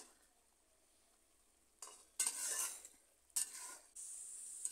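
Pumpkin curry gets stirred in a pan after near silence, bringing three bursts of sizzling and scraping, the last one running steadily to the end, with no talking.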